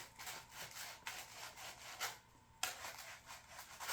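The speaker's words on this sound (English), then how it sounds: "it'll help me go back with this piece of sandpaper" Sandpaper rubbing over superglue-hardened cardboard flute finger holes, faint, close scratchy strokes repeating in a steady back-and-forth rhythm with no talking.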